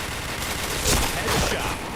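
Gunfire in an online shooting game: a dense burst of rapid shots over about two seconds, loud and close, with a voice talking underneath.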